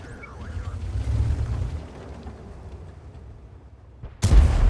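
A tank cannon firing in World of Tanks, with a low rumbling blast that swells and fades early on and a sudden loud, close boom near the end over steady engine and battle rumble.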